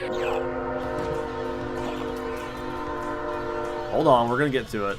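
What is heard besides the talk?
train passing in Castlevania: Symphony of the Night video game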